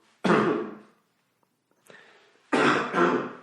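Two harsh, close bursts of coughing and throat clearing, separated by a quiet pause with a faint rasp in between.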